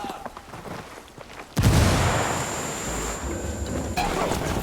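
Frag grenade blast in the Ghost Recon Wildlands game: a sudden loud broadband boom after a quieter stretch, followed by a sustained rumbling roar and debris wash, with a faint tonal ring lingering above.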